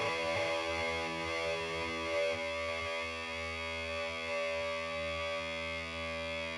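A distorted electric guitar plays through Helix impulse responses with inverted polarity, giving a thin, buzzy, sustained chord that holds at moderate level without talk.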